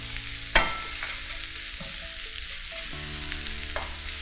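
Red chilies and garlic cloves roasting in a pan until golden and crisp, a soft, fairly quiet crackle with a sharp clack near the start and a few light stirring knocks.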